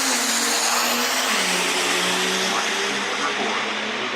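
A diesel truck's engine roars at high revs on a dyno roller at a diesel callout competition, a loud sustained drone with a rising pitch through the clip.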